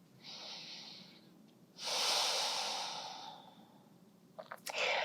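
Slow, deep breaths taken during a yoga flow, a long soft exhale swelling up in the middle, close and quiet in a calm room with no talking.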